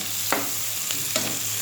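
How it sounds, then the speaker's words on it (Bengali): Six onions browning in a frying pan hiss with a steady, moderate sizzle, broken by three brief scraping stirs spaced about a second apart; no voices. "পেঁয়াজটা দেখো ভাজা হয়ে গেছে, বাদামি কালার হয়ে গেছে"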